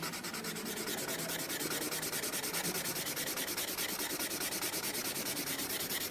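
Steady soft rubbing on paper as pencil shading is blended, a continuous close scratchy swish with a fast even back-and-forth rhythm.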